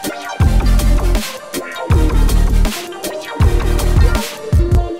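Synth patches built in Omnisphere from a Tuvan throat singing sample play as loud, rhythmic tonal phrases in bursts with short gaps, each with a deep droning bass and bright buzzing overtones, heard alone without talk.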